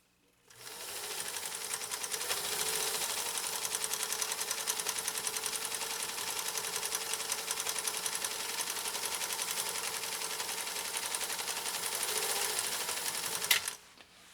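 A PFAFF 332 sewing machine runs a decorative stitch at steady speed for about thirteen seconds, giving off a dense, continuous mechanical whir with fine ratcheting clicks close by. It speeds up briefly just before stopping.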